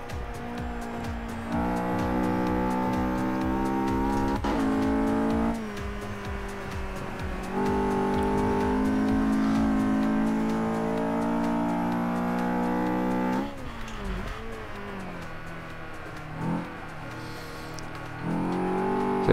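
A Mercedes 190E engine in a racing video game drives a fast lap. The engine wails and rises through the gears with sharp drops at each shift, and there are brief tire squeals and a long throttle lift near the end.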